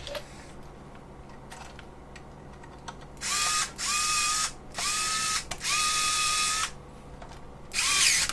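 A power drill drives M3 nuts during quadruped robot assembly: several short whirring bursts of varied length follow quiet handling clicks, loud and close with no voices.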